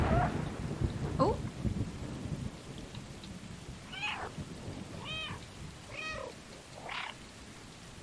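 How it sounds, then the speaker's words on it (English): A cat meows several times in the video game Stray, triggered by a meow button. There are five or six short, clear meows in the second half, over rain and distant thunder, after a heavier rumble at the start. "There's a meow button"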